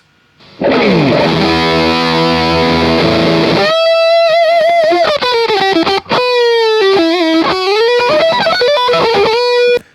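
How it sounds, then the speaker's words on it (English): Electric guitar through a miked Vox AC30 amp: a strummed chord rings out, then a lead line with bent, sliding notes, loud and close. "So this is the sound of Simon's mic'd up amp"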